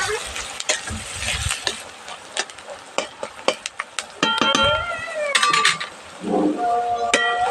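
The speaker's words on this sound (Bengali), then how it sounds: "আবার একটু ভালোভাবে নাড়াচাড়া দিয়ে দেবো" Onions frying in a pan for a village-style mutton curry, sizzling steadily while a spatula scrapes and clinks in repeated stirring strokes, close and fairly quiet, with no talk.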